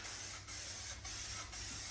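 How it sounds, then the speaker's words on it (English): Spot primer hisses from an aerosol can onto a car panel on a VZ ute build, in three steady bursts separated by short pauses, faint and alone. "This stuff runs pretty easy, so you just spray it on nicely."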